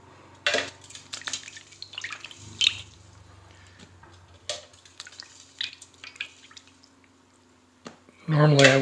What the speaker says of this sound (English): I'm going to just take them now and rinse them and then dry them off.